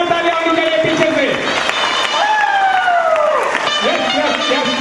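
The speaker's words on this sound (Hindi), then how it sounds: "जबरदस्त तालियों के साथ संजय चौधरी सर का स्वागत किया जाए" Crowd applause welcoming speaker Sanjay Chaudhary at an event in Baroda, with steady clapping throughout, shouting voices and loud music with sliding tones over it.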